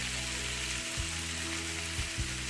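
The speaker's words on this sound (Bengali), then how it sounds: "তো একটু নাড়া দিয়ে একটু আমরা ভাজা করব" Keski fish and eggplant frying in a pan, a steady close sizzle with a few brief scraping stirs of a spatula, and no one speaking.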